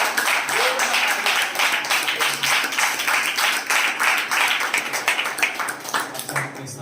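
A church congregation claps together loudly and steadily in a rhythmic pattern for several seconds, with voices mixed into the clapping.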